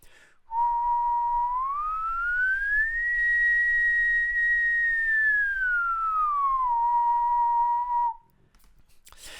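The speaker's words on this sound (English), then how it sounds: "my whistle mostly just consists of one actual tone" A person whistles one sustained tone for about eight seconds, starting low, gliding smoothly up to a steady higher pitch, holding it, then sliding back down before stopping; clear, close and alone against near silence.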